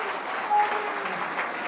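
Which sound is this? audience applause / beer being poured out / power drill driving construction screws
audience applause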